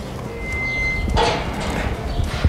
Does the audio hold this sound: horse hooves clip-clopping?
yes